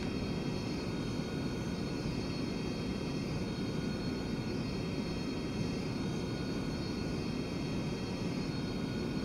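Airliner engines hold a high idle in a home-cockpit flight simulator, a steady broadband jet roar with faint tonal whine layered on top, constant and unchanging throughout with no voices.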